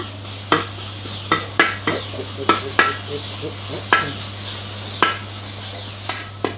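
Tomato, turmeric and spices for a Kuttanad-style duck curry sautéed in a pan, with a soft sizzle under repeated sharp scrapes and clinks of a spoon against the vessel at an uneven rhythm over a low steady hum.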